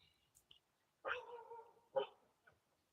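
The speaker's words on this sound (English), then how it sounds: "I don't know if y'all can hear that dog." A dog barks nearby, two short barks separated by a pause with faint yips around them, heard alone in an otherwise quiet indoor room.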